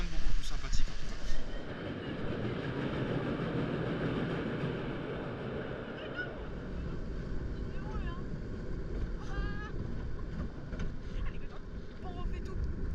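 Toutatis roller coaster at Parc Astérix running along its rails, a continuous loud rumbling roar with heavy wind buffeting and faint distant screams, recorded on board.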